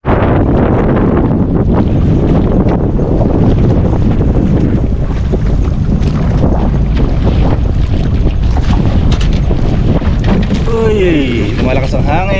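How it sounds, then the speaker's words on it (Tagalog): Strong wind buffets a fishing boat at sea, roaring steadily and loudly across the microphone with rushing water and waves beneath, continuous throughout with no letup. "Malakas ang hangin"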